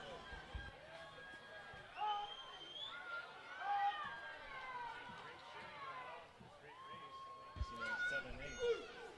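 Cheering from spectators at a children's swim meet, with nine-year-old swimmers racing. Many excited voices yell and shout together for the full stretch, rising in bursts over a busy, echoing poolside hubbub.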